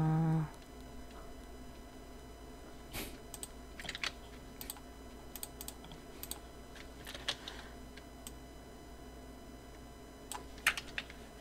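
Computer keyboard keys click in scattered bursts and single taps during Photoshop editing, fairly close over a low steady room hum with no talking.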